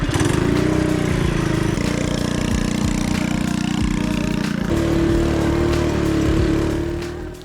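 Dirt bike engine running loud and steady while being ridden on sand, a continuous close mid-pitched drone with a brief shift in tone partway through and a fade at the end.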